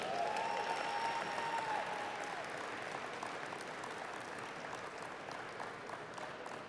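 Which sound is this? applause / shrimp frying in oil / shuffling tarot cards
applause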